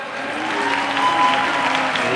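Sustained crowd clapping for company executives at a Thai film press event, an even, moderately loud patter that holds steady throughout without speech.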